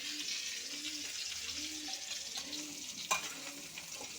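Potato and papaya pieces frying in oil in a covered pan, a steady soft sizzle and hiss running throughout, with a brief clatter near the end.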